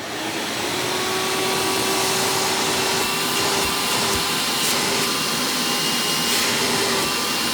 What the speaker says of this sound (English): since this vacuum is direct air, do not expect miracle suction.